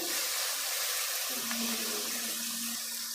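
Cooked tripe and its broth are poured into a pan of softened onion and tomato. The pour makes a continuous close splashing rush over a low sizzle, with no voices.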